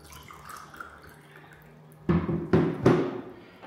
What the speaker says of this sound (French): On se sert de l'eau.